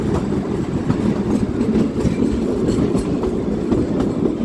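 Kalka–Shimla narrow-gauge toy train rolling into Shimla station, a steady close rumble of wheels and carriages with faint clickety-clack over rail joints throughout, no voices.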